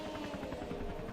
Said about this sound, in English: I'm flying the helicopter at 50 feet here.